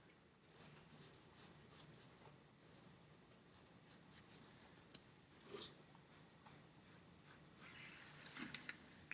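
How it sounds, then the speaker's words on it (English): A pencil eraser rubs over paper while a graphite drawing of an Olympic curling stone is shaded, making a steady series of short, soft scratchy strokes in a quiet room. "You're kind of drawing with the eraser a little bit."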